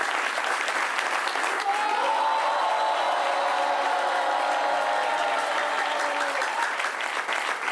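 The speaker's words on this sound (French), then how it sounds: "On les applaudit très fort." A studio audience at a French talk show gives loud, sustained applause with some crowd noise, steady from start to finish, with no talking.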